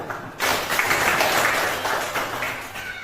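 A classroom of students applauding group 1, a burst of scattered clapping that swells quickly and tapers off over a few seconds, with faint voices mixed in.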